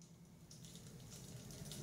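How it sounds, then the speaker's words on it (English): Water dripping and trickling onto a sculpture inside a quiet room, a soft continuous wash of falling water heard at low level with no talk. "sculpture having water dripped on it"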